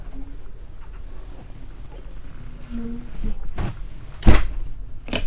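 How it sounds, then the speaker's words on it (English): The hatch on a 2013 Jeanneau Leader 8 motorboat is closed with a soft creak and then two sharp thuds, close by, over a low background hum. "a really easy to open hatch. We'll shut that back down."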